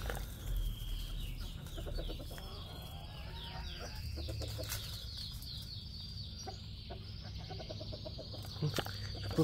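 Chickens and a rooster being showered with a watering can cluck faintly and intermittently against a quiet, hissy background.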